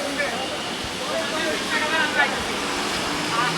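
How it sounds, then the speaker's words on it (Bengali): Heavy rain pours down in a steady, dense hiss that fills the whole stretch at close range, with faint voices audible under the downpour. "অনেক অনেক জোরে বৃষ্টি হচ্ছে।"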